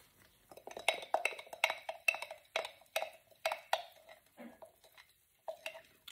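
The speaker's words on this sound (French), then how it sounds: "Maintenant, nous allons mélanger le tout." Tablespoon stirring a homemade turmeric oil mixture in a bowl, a steady series of sharp metallic clinks and scrapes against the dish, close and clear with no talking.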